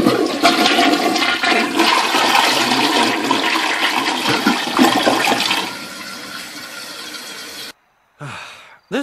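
A low-flow toilet modified to flush at high flow, with foam sealing a hole, gives a loud, continuous rush of flushing water that tapers off into a quieter gurgle, then a brief pause and a short final swirl.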